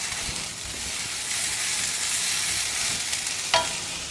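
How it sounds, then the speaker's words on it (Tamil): Mint leaves and tomato sautéing in a pan, a steady close sizzle with faint stirring scrapes and one sharp clink near the end, no voices. "சிம்லேயே வச்சு இது வதக்கணுங்க"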